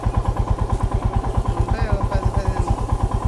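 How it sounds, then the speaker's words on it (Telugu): A motorcycle engine putters close by with a fast, even pulsing thump, a voice briefly audible over it. "బైక్ బైక్ వెళ్తుంది అసలు"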